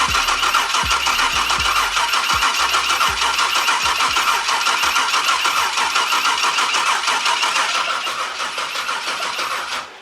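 An LS V8 engine cranks over with a few quick thumps, then catches and roars into a loud, steady rumbling idle that holds throughout.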